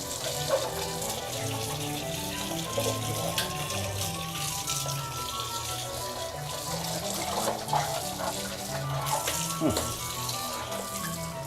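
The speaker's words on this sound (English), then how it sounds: "I'm going to rinse them now." Tap water runs steadily into a sink while white sneakers cleaned with baking soda are rinsed, a continuous splashing hiss with occasional clunks and sloshes; a voice speaks faintly now and then.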